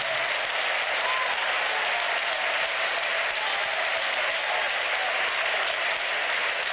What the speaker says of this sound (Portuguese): Pode louvar a Jesus com palmas.